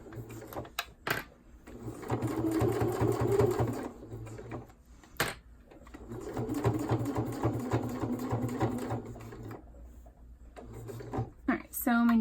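A home sewing machine top stitching elastic on a Happy Hippos Flex Fit cloth diaper, running in two long steady buzzing bursts with brief pauses and a few clicks between, under quiet background talk.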